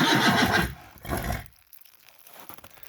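A black draft mare whinnies loudly and close by, a long shaky call that breaks off, followed by quieter rustling.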